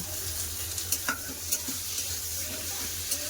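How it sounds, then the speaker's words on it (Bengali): Onion and garlic frying in mustard oil in a pan, a soft continuous sizzle with a few light scrapes and clinks of a spatula stirring, close and fairly quiet. "পেঁয়াজ রসুন ভাজা হয়ে গেছে"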